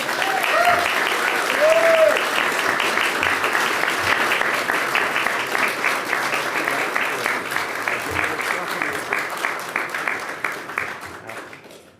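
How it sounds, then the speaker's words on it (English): Sustained applause from a morning St. Patrick's Day breakfast audience greeting speaker Michael Dowling, dense clapping that holds steady for about twelve seconds before tapering off, with a few voices mixed in. "I'm going to welcome him forward now to thunderous applause"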